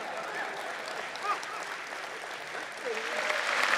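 An audience at a Hindi comic poetry recital (kavi sammelan) claps in a steady, sustained round that swells slightly toward the end, while a performer's voice speaks faintly over it.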